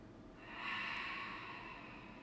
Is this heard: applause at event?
no